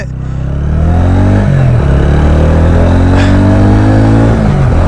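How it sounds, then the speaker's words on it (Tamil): A TVS Ronin motorcycle engine revs loud and close, climbing steadily in pitch with a brief dip before rising again. "இப்போ ஆர்பிஎம் வந்து டக்கு டக்கு டக்குன்னு ஐயாயிரம் ஆறாயிரம்னு ஏறிடுது"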